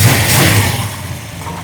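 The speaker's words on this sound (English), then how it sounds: "We're idling at 1100." A Silver Bullit car engine idles at about 1100 rpm with a loud, low rumbling chug close by, steady for under two seconds.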